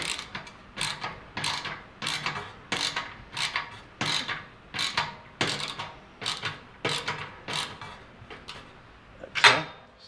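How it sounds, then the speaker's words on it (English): A ratcheting screwdriver drives screws while a Charbroil Performance 4-burner gas grill is being assembled. It makes a steady run of about a dozen close, crisp ratcheting strokes in an even rhythm, with no talking. "And I'm cheating with my ratcheting screwdriver."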